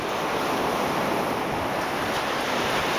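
Ocean surf washing steadily onto the shore at sunrise, a continuous broad wash of breaking waves with some wind buffeting the microphone, no voices.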